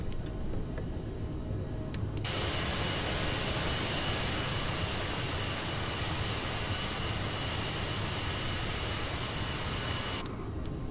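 A CRJ-900's jet engines roar steadily during the climb after takeoff in Microsoft Flight Simulator 2020, a dense, constant hiss and rumble that swells in mid-clip and eases back near the end, with no speech.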